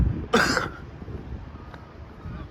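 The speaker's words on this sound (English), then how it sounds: "Excuse my coughing and sniffing this morning as well" A man out walking gives one short, sharp cough close by in the open air of Bournemouth town centre, followed by quiet outdoor background.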